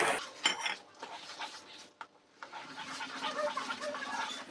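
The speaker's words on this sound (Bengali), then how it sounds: "এই সময় অনবরত খুন্তি নাড়িয়ে যেতে হবে একদম থামানো যাবে না" A metal spatula scrapes and stirs milk reducing in a pan for carrot halwa, giving continuous clinking and scraping strokes, close and fairly steady, with brief pauses.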